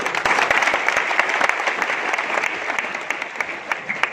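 Students at a career guidance program in Malkapur applaud steadily and loudly, a dense wash of many hands clapping continuously for the whole stretch, with no speech over it.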